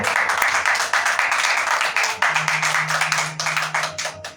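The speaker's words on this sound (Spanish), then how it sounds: "Dale palmas al Señor." Congregation clapping during a Spanish-language church sermon, loud continuous rhythmic handclaps with a sustained voice or tone underneath in the second half.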